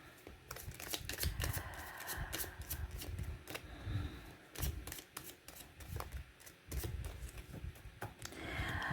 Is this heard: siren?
no